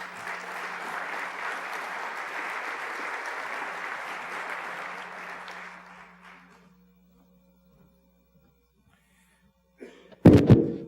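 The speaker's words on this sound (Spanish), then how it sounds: "Un aplauso para recibirlo, por favor." An audience applauds at a ceremony marking an anniversary with a postal stamp issue, sustained clapping that fades out after about six seconds, followed by quiet and then a loud burst of handling noise.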